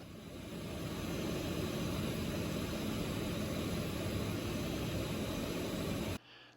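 Steady engine and wind drone fills the cockpit of an RV-12 light sport aircraft in cruise flight, a constant broadband roar that cuts off abruptly near the end.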